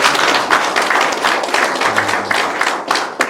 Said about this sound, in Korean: 여기 계신 분들에게 한 박수 한번 부탁드리겠습니다